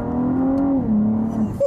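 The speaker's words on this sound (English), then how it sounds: "All those gear shifts are lightning quick." A supercar on a Dubai road accelerates hard, its engine droning up in pitch, then dropping as each lightning-quick gear shift lands, heard close and loud with no talk.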